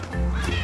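A duck quacks briefly at close range while being fed, a short burst of sound heard over background noise.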